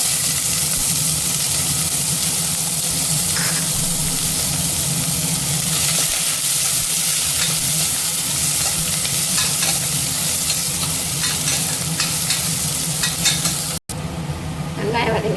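Chopped big onion sautéing in a pan with bay leaves, a loud, dense, continuous sizzle and hiss with occasional faint scraping, running steadily throughout.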